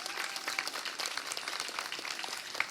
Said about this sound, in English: please give them the warmest round of applause that you can